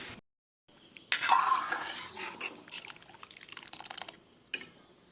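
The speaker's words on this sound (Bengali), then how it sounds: "ডালটা ফোড়ন দিয়ে দেবো এবার।" Masoor dal tempered in a pot of hot oil, with a burst of crackling and clinking stirring after a short silence, then softer intermittent scraping and sizzle, close and moderately loud.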